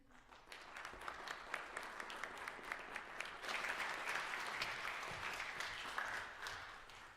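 A lecture audience applauds steadily to welcome the keynote speaker, a dense, sustained wash of clapping that swells slightly midway and holds at an even, fairly loud level throughout.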